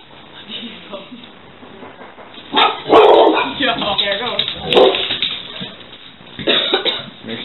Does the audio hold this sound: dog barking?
yes